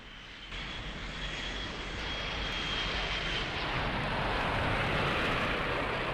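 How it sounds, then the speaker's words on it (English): Su-27 jet engines in Lock On spooling to full military power, a loud broad roar that swells after a brief quieter start and holds steady with a faint high whine on top. "Throttles to full military power."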